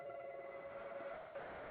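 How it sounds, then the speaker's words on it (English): A telephone rings faintly in the background, a steady muffled tone with a brief break near the end, heard under quiet room noise. "I apologize for the phone ringing in the background"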